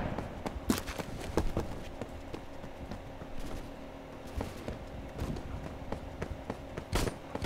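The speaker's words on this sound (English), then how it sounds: "I hear somebody running." Quick footsteps of a running player in the Roblox shooter Phantom Forces, a steady stream of sharp, closely spaced thuds with occasional louder impacts, moderately close and unaccompanied by talk.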